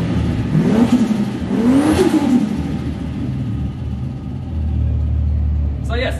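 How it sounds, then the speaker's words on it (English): A warm Ford Falcon turbo engine is revved while parked, two rising and falling revs swelling over a rumbling idle, then settling back to a steady loud idle nearby. "I'll give you guys a quick rev."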